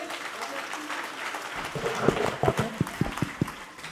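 Scattered claps from a small crowd, building into a sparse round of applause over steady background murmur.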